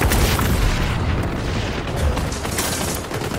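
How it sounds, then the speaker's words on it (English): A grenade explodes in the shooter game XDefiant, set in Times Square on PS5: a loud, sustained deep boom with rumbling debris filling the whole moment. "Grenades away!"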